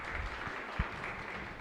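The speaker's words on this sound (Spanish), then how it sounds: "Fuerte aplauso para el Señor." Congregation applause during Mass at Capilla Santa Elena chapel in Lambaré: a brief, steady wash of clapping from the assembly, moderately loud and continuous throughout.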